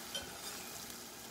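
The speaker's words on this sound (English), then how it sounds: "And it's gonna bubble like this." Hot caramel bubbles and sizzles steadily in a pan as salted butter is stirred in, a close, continuous hiss and crackle with no voices.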